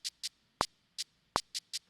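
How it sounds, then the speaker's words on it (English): A custom hi-hat shaker drum sample made in Logic Pro plays a crisp, sparse pattern of short bright ticks, with two fuller, lower-bodied hits among them, dry and isolated with no other sound. "I made my own hat shaker sound"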